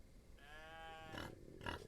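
Livestock in a western video game set in a frontier farm town, a single drawn-out animal grunt or low moo followed by two short bursts of noise.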